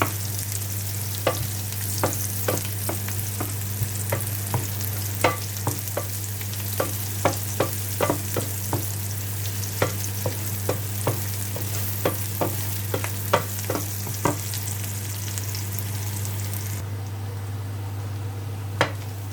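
Pizza topping ingredients fry in a pan with a steady sizzle. A utensil scrapes and taps against the pan many times, irregular but fairly regular, close and clear, over a constant low hum. No one speaks.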